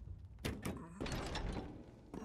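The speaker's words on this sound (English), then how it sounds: "let's go through this door" A door opening in the video game Resident Evil Village, heard as a couple of sharp knocks followed by a dull sliding thud and a fainter bump at the end, quiet overall.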